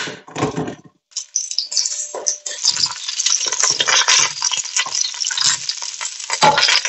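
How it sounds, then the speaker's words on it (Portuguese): Shallots browning in olive oil in a pan give a steady, close sizzle with bursts of stirring and scraping against the pan, continuing without pause. "Vou colocar um pouquinho de azeite aqui. Já vou colocar as chalotas para dourar."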